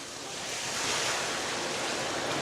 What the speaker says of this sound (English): we're gonna dump our soapy water mixture.